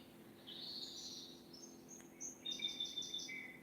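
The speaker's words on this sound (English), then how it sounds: "Let's listen to those birds, shall we?" Birds sing clear, high whistled phrases and a quick run of repeated chirps, faint against a quiet indoor hum.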